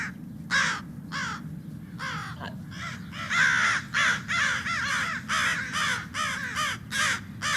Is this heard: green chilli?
no